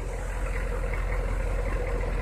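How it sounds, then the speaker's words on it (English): Humvee engine idling in drive, the vehicle crawling forward on its torque converter with the brake held; a steady, loud low rumble with no voices. "she's crawling because I'm riding the brake, and it's just a torque converter taking her"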